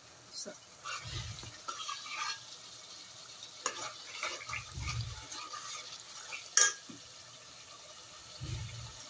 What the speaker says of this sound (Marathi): तर ना मसाला आहे बघा चांगला भाजून घ्यायचा